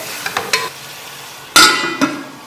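Black pepper chicken being stir-fried in a pan, a few sharp scraping and clanking strokes of a spatula against the pan over a quiet background, with one loud scrape near the middle.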